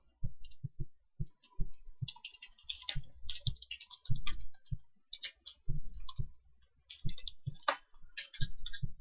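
Keys clack on a computer keyboard in bursts of quick, close taps with short pauses between runs, no one talking.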